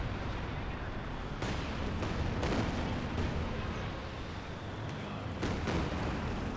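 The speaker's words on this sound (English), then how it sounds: "Mortar carriage is still causing havoc." Mortar and artillery fire in a Company of Heroes 2 4v4 battle on Hill 400: several booming blasts over a dense rumbling battlefield background, fairly loud and continuous.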